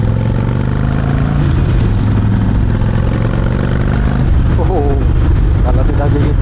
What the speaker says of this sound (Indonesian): motor ini bisa menghasilkan suara yang asik banget dengarnya, dengan knalpot V&H